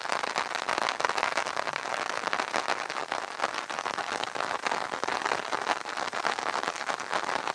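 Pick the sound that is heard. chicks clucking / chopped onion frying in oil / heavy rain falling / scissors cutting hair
heavy rain falling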